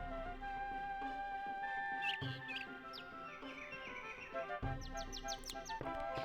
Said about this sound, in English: Sounds like the birds are chirping.